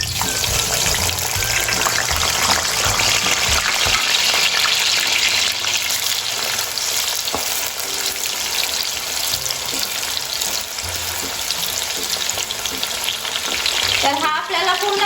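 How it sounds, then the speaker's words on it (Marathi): Loud, steady sizzling of onion frying in hot oil, with occasional stirring scrapes and a brief clatter near the end. "तर इथे आता आपलं तेल तापलेलं आहे तर आपण याच्यामध्ये कांदा घालून घेऊयात"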